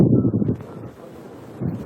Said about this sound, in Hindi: तेज हवा जो होती है बहुत